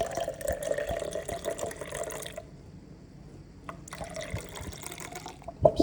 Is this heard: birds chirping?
no